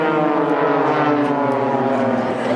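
Jet aircraft of the Blades aerobatic display team flying past over the seafront, a steady, loud, sustained engine roar with no break across the moment.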